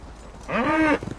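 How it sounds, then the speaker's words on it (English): A single cow moos once in Assassin's Creed Valhalla, a short, drawn-out low call, fairly close, against a quiet background. "got a couple of cows just running around everywhere"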